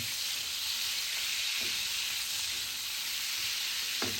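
Eggs and salted fish sizzle steadily in a hot frying pan, a continuous bright hiss with a few faint clinks.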